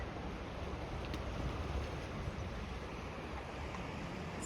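Fast-flowing river water at Great Falls, a broad steady roar of rushing current with wind noise on the microphone, continuous and unbroken throughout.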